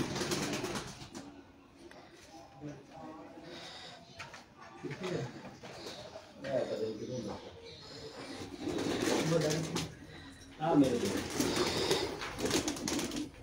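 Antique pigeons cooing in a loft, soft repeated coos rising and falling throughout while someone talks over them nearby.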